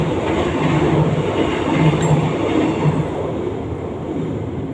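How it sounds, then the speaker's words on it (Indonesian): A train rolls past close by near a railway station, a loud, continuous rumble with a steady rhythmic clatter of wheels on track that lasts the whole time without easing. "karena nge-live kita dekat rel kereta api stasiun"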